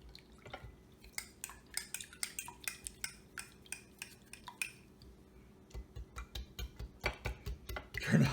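Eggs stirred in a bowl with a utensil, a run of quick, light clinks and taps against the side, fairly close and irregular, pausing briefly midway before resuming, with a louder burst at the end.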